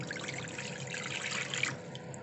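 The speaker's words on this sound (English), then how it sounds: "Let's put 400 mils of water here." Water pours steadily as 400 ml is measured into a wok, a continuous close splashing trickle with no talk.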